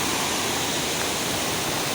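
A waterfall on a forest stream, a dense, steady roar of falling water close by, filling the whole clip with no voices.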